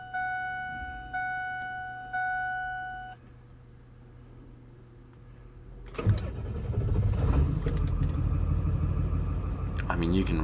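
A Ford 7.3L diesel in an Excursion or F-250 with a new starter is cranked and catches, a loud rumbling engine roar following a few chimes from the cab.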